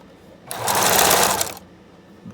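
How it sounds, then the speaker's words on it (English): A sewing machine running a zigzag stitch in one steady, loud whirring burst of about a second, starting and stopping cleanly. "I'm going to do a zigzag stitch to really test it here."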